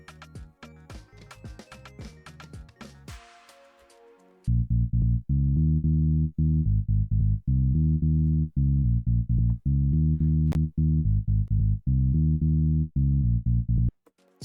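The eBass08 electric bass sample from the Purity plugin in FL Studio enters after a busier full-mix passage, playing a loud rhythmic afrobeat bassline with an extra variation note slipped between the repeating notes.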